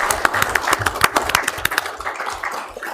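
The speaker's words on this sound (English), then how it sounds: "Give you guys a round of applause." A round of applause at a Rock Springs city council meeting: scattered, uneven hand claps from a modest crowd in a hall, loud at first and thinning out toward the end, with no talking.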